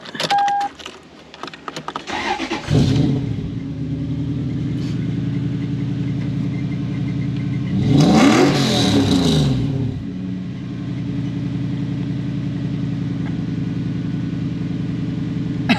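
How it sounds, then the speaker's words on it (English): Toyota 1UZ V8 engine without VVTi starts up, settles into a steady, droning idle, briefly rises in a short rev around the middle, then drops back to an even idle, close and continuous. "And then it decides to idle like it should."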